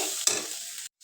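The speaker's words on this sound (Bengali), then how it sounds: "এই তো চিংড়ি মাছটা হচ্ছে আমি যে এরকম করে ভেজে নিচ্ছি" Giant freshwater prawns sizzling loudly in a hot pan, a bright close crackle with a sharp burst near the start, ending abruptly in silence after under a second.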